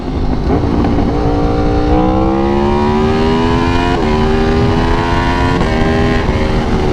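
A sport motorcycle in track mode with traction control lowered runs hard on a circuit, its engine note loud and close, climbing steadily through the revs with brief breaks at quick upshifts.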